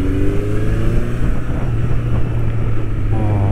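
A Honda CB1100's air-cooled 1100cc four-cylinder engine hums at moderate revs below 4000 rpm while riding, a close, steady drone with wind noise.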